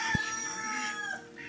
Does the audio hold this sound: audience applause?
no